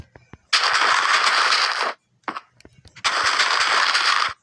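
Two loud, sustained bursts of harsh, crackling TNT explosion noise in Minecraft, each lasting over a second, separated by a short pause with scattered clicks.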